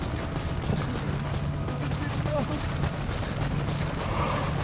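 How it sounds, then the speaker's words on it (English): Helicopter arriving at a landing zone in the Metal Gear Solid V video game, a loud steady rotor chop filling the mix continuously, with voices talking over it. "I think in this mission you actually have to escape via helicopter every time."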